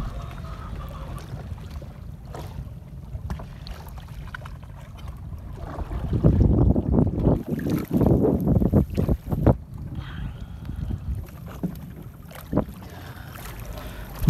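A small boat without outriggers moves across open water during a morning crab and fish catch, with steady water rush, buffeting wind noise on the microphone, and a louder stretch of splashing and knocking in the middle.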